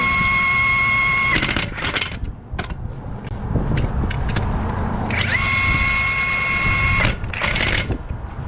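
A cordless Ingersoll Rand W96 1-inch impact gun runs in loud, rattling bursts with a whining motor tone that steps up and then cuts off on its own, with short mechanical clacks between runs.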